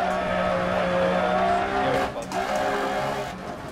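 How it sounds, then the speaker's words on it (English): Rally car engine in the Dirt Rally VR racing game roars loudly and continuously with a steady high-revving drone, dipping briefly as gears shift, with tyre noise underneath. "Hear the roar of that engine"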